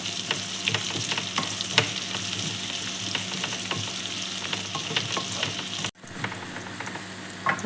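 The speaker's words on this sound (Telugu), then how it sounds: "మిక్స్ చేసుకుంటూ ఫ్రై చేసేద్దాం" Dantu kura (amaranth) stems frying in a pan with a steady, close sizzle and scraping stirs throughout, briefly cutting out near the end before resuming.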